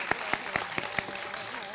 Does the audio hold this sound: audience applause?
yes